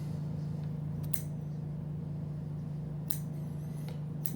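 Big scissors snip hair during personal grooming, with a few sharp, close cuts around one second and around three to four seconds over a steady low hum.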